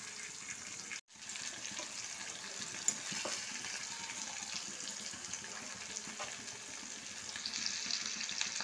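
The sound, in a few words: fish frying in a pan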